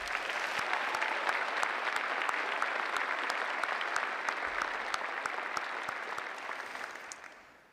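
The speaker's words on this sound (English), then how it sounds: "Let's give her another round of applause" A crowd at a university commencement for the College of Business and College of Health and Human Sciences applauds a graduate with steady, dense clapping that holds for several seconds and then fades out.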